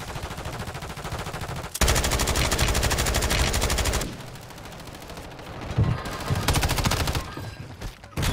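Rapid machine gun bursts crackle through a video game shootout, one long sustained volley followed by quieter, scattered fire and a renewed burst at the end, with no voices.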